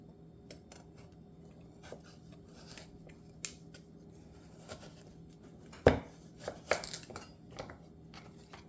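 Kitchen knife cutting a carrot in half on a cutting board: sparse, quiet single chops and taps with one sharp, louder knock near the end followed by a few small clatters, in an otherwise quiet room.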